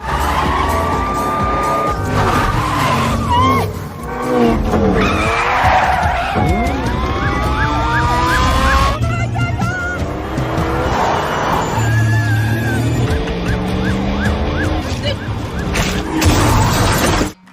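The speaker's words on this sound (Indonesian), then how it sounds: "penjelasan Nick membuat Noah semakin kesal dan menambah kecepatan mobilnya" Racing car in a film street race, speeding up with loud engine roars, squealing and skidding tires, and a brief crash-like burst amid dense action effects and music.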